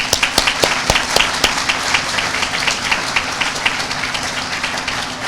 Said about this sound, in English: We're doing one more round of applause for the students.